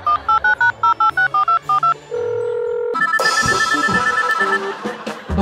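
Rapid keypad dialing tones beep in a quick run of short bursts, then a mobile phone's ringtone plays continuously and fairly loud for the remaining seconds.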